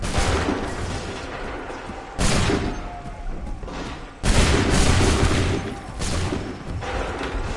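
Naval cannon fire in Assassin's Creed 3 Remastered, with several heavy booming volleys spaced a second or two apart over a continuous rumbling battle din, loud and close.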